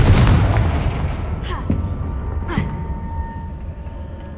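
Confringo blasting spells detonate in Hogwarts Legacy, a heavy boom fading into rumble, followed by two sharper bursts about a second apart, mid-distance and loud.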